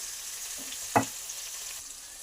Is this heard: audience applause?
no